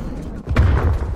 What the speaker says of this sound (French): Frappe au napalm.